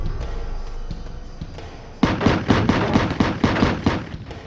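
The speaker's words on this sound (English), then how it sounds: "Muzzle bursts ripped through the night air." A Mac 11 machine gun firing rapid bursts at night, a quick regular string of punchy, loud reports following a quieter lead-in.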